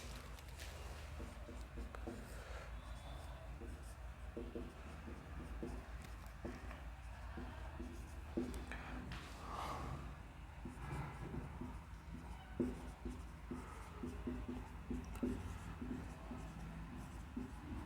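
Chalk or marker writing on a board during a lecture, soft scratchy strokes repeating in short bursts at close range, quiet and steady with occasional taps.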